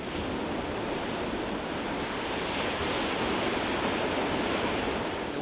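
Waves wash steadily against the rocky coastline at Xiao Yeliu in Taitung, a dense continuous roar of surf mixed with wind buffeting the microphone.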